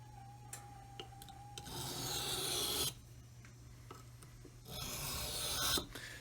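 Knife being sharpened outdoors while the first edge bevel is set: long rasping strokes of the blade along a stone, two extended passes separated by quiet, close and fairly soft with faint clicks between.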